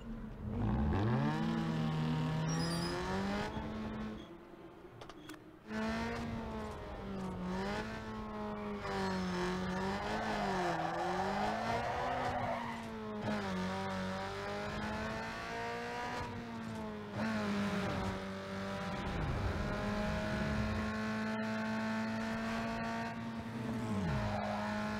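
Car engine in Need for Speed Underground 2 revs and climbs through gears during a race, loud and continuous, with rising and falling pitch as it shifts and brief tire noise.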